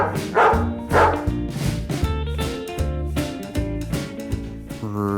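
A dog gives two loud barks near the start, followed by further yips over a tonal musical backing.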